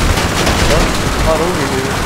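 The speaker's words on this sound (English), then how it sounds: "I killed him with the guns on the fucking Batmobile." Rapid machine-gun fire from the Batmobile's mounted guns in GTA 5 rattles on steadily and loudly, with a faint voice briefly audible beneath it.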